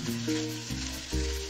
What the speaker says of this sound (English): All you have to do is just stir fry and add the ingredients that you need to add.